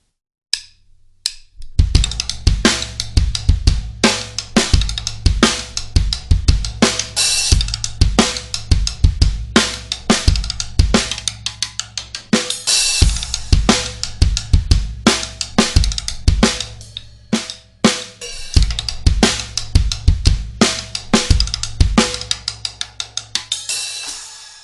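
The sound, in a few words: drum rim hits used as a sample in a beat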